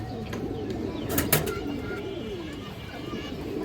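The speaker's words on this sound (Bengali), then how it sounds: "একটা কালো গলা মাদি কৌতার বড় সাইজের একটা কালো গলা মাদি" A large black-necked female pigeon gives a soft, low coo at close range against a dull background murmur, with a few faint higher chirps mixed in.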